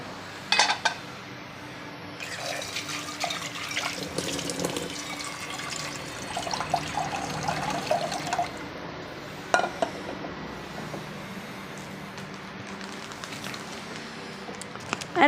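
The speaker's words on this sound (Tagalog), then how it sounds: "So, maglalagay na tayo ng tubig." Water poured from a tap into a small cooking pot to make gravy, intermittent splashing and running water with light clinks of pots and utensils in a home kitchen.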